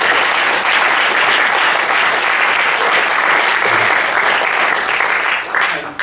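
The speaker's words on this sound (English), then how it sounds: "So we applaud Jeb." Audience at a university fiction reading applauding, steady dense clapping from a full room that holds throughout and begins to thin out near the end.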